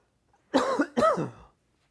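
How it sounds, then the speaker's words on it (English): A person coughs twice in quick succession, close to the microphone and loud, with nothing else heard around the two bursts. "could not hold that cough in to save my life"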